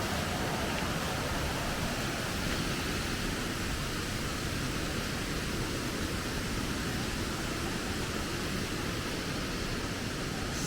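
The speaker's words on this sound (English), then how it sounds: "There's the waterfall itself." A Queensland waterfall roars as a steady, loud, broadband rush that continues without a break and has no voices over it.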